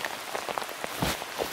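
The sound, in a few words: rain falling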